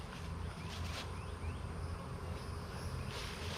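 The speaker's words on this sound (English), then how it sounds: "just start shaking bees out here." A steady, dense buzz of many bees being shaken out of a hive close by, continuous and fairly quiet, with no talking.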